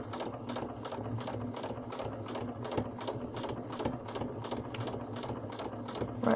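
Sewing machine running a steady, rapid stitch while foundation paper piecing a quilt block, a continuous close mechanical whir with regular needle clatter and no voices.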